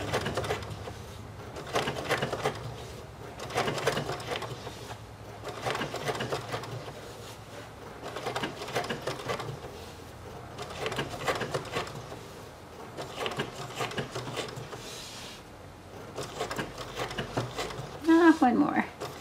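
A sewing machine stitches machine embroidery meant to look hand-done, running in repeated bursts of rapid needle chatter with short pauses between them.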